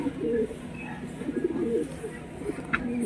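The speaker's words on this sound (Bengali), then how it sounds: "এটা ছেলে পায়রা।" A male pigeon coos in low, throaty repeated phrases close by, with faint background noise and a brief chirp near the end.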